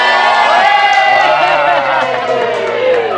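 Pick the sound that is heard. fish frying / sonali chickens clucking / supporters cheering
supporters cheering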